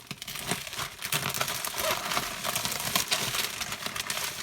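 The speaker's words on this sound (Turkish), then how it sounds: "Kutuyu açalım." Crinkling and scraping of packaging as a box is handled and opened up close, with irregular rustles and tearing noises throughout.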